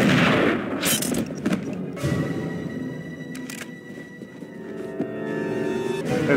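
Gunfire in the Enter The Matrix game: a few sharp, separate gunshot bangs with ringing tails, mid-loud, spaced across a few seconds over a faint game background.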